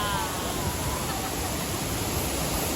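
Vera Falls in Bicol pours in a steady, dense roar of falling water, loud and close, with no break in the rushing wash.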